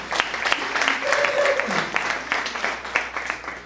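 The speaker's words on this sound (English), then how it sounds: "You should clap for me, surely." Audience members at a youth workshop in Musanze break into applause, a dense patter of clapping that rises and falls, with voices talking and murmuring over it.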